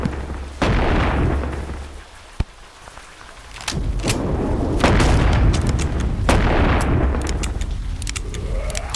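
Loud booming gunfire from a zombie-sniping session in the VR game Animal Company, with several heavy shots and bursts spread across the stretch over a rumbling, noisy background.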